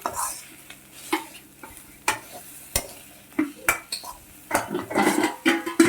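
A spatula stirs egg rice in a frying pan with a soft sizzle underneath and repeated sharp scrapes and clinks against the metal, coming in an uneven rhythm at close range.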